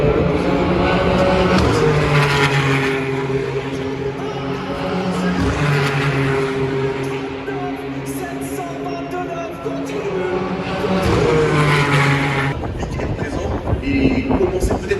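Race cars lap the circuit at the GP Explorer event, their engines swelling and fading as they pass in the distance with wind noise, and people talking over the top.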